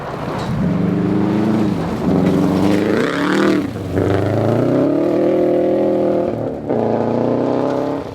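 Rally car on a gravel stage of the 2012 Olympus Rally, engine loud and close, revving and rising through the gears with brief lifts between pulls, sustained throughout with no talking.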